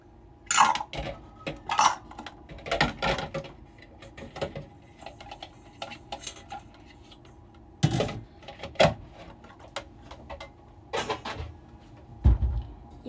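A pot for boiling edamame is washed and handled at a kitchen sink, with scattered clanks, knocks and clatters of metal against the sink, some sharp and close, separated by quieter pauses.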